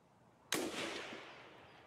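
A single grenade explosion in the shooter game Escape from Tarkov, set in woods: one sharp, distant-sounding blast followed by a rumbling tail that fades over about a second.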